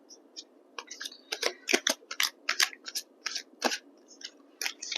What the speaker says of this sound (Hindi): First, I'll shuffle all the cards for all the departments